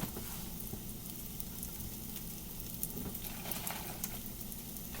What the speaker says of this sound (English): Just gonna let it sit there and fry up a little bit more